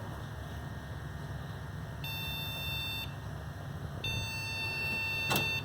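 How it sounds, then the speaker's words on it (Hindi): A computer motherboard signals a RAM fault with continuous error beeps: two long, steady high-pitched tones separated by a short gap, over a low fan hum, with a brief click near the end. "रैम की बीप आ रही है, सीरीज बीप दे रहा है मदरबोर्ड, कंटिन्यूसली बीप आ रही है।"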